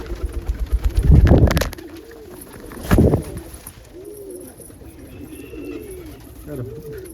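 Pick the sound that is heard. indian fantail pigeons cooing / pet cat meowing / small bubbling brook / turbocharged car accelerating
indian fantail pigeons cooing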